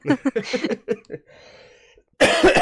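A run of harsh, rapid coughs close to the mic, a raspy wheezing breath, then another loud burst of coughing.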